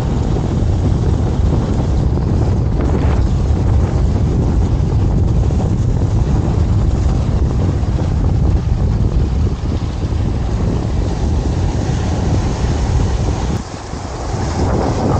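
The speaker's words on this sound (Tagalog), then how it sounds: "Kasi ng ano eh, lakas ng alon eh." Loud, continuous wind roars over the microphone while strong sea waves churn and wash nearby on the shore at Lian, Batangas, a heavy unbroken rush of water and air.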